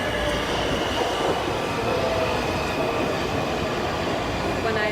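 A rail car ride in Washington, D.C. gives a steady, loud, continuous rumble with wheel and rail noise throughout, and faint squeals rise and fade within the dense interior din.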